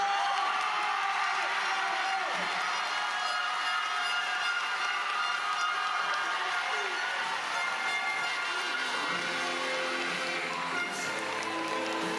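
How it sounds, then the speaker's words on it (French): An audience at a 2024 show finale applauds and cheers the finalists Lucas and Tina, a thick, unbroken roar of clapping and crowd noise that stays loud and even throughout. "un tonnerre d'applaudissements pour les finalistes"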